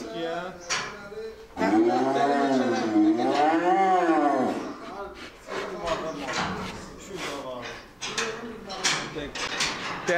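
A long, loud cow moo rises and wavers near by, followed by more lowing calls from a herd of 37 fattening calves while people talk over them.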